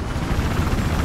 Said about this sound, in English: I'm getting the chopper.